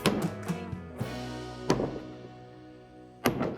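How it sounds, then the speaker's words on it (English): A sledgehammer drives a wooden post down for a goat shelter, giving three heavy, ringing thunks spaced more than a second apart, each loud and close, with lighter knocks between the first two. "we're gonna hammer it down with the sledgehammer"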